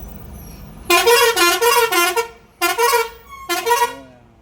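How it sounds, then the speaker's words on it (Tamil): Loud, close bus horn honks: one long blast, then two shorter ones, each with a harsh multi-tone blare over faint traffic rumble. "பஸ்ஸுக்காரங்க ஹார்ன் அடிச்சுட்டு வரலாம்."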